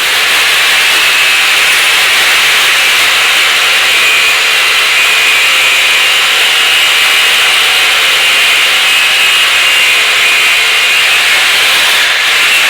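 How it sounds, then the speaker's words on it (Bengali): Electric drill boring into a tiled bathroom floor to set wall plugs for fitting a high commode, a loud, steady grinding whine held without a break for the whole stretch, close to the listener with no talk over it. "আমরা আরেক পাশে ড্রিল করব"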